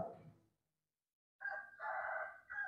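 A rooster crows loudly and close by in two long harmonic bursts after a brief lull, following the fading tail of a voice, heard during an Islamic religious lecture.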